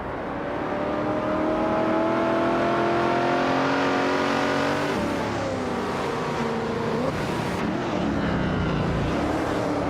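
Vintage supercars, including a 1971 Plymouth Roadrunner, racing at Road America in a video game, with loud layered engines revving and shifting through gears, pitch climbing and dropping as cars accelerate, a continuous close roar without voices.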